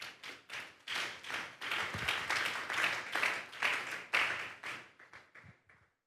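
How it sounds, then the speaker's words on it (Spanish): Church congregation applauding at a Sunday service, a fairly faint run of rhythmic group clapping in waves that tapers off into scattered claps. "Démosle un fuerte aplauso pues al Señor."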